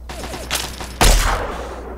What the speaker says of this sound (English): Some guy's got like a machine gun.